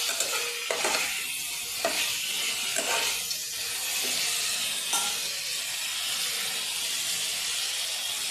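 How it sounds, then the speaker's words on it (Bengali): Potatoes sizzle and fry with spices in a pan for a home-style egg curry, a steady close hiss broken by a few soft stirring scrapes, with no talk. "আলু দিয়ে দিচ্ছি দিলে আলুর সঙ্গে মশলাও ভাজা হয়ে যাবে আর আলুও ভাজা হয়ে যাবে"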